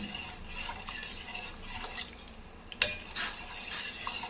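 Finger millet (ragi) porridge is stirred in a pot with a spoon, giving soft repeated scraping and stirring sounds with a sharp clink near the end, with no talking.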